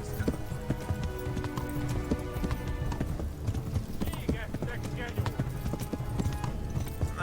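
A horse gallops in Kingdom Come: Deliverance, steady rhythmic hoofbeats thudding close throughout while someone talks over them.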